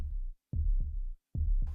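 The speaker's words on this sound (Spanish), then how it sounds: "con la conciencia de escuchar nuestros latidos" A human heartbeat sounds as deep, muffled low thuds in a steady lub-dub pattern, two beats heard clearly and a third beginning, close and isolated.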